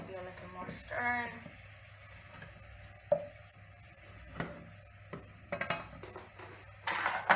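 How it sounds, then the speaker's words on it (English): Butter being stirred in a pan for homemade mac and cheese, with a spoon scraping in short irregular strokes over a low, steady sizzle. A few sharper knocks stand out near the end. "maybe a little more stirring"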